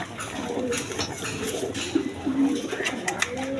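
A pair of Bombay pigeons coos in soft, low, repeated calls close by, with other bird sounds and faint background noise around them.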